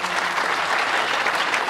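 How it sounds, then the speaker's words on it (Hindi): Steady, dense audience applause at a Kajari folk festival event in Uttar Pradesh, an even wash of many hands clapping throughout with no break. "तालियों की गड़गड़ाहट बहुत कम लग रही है।"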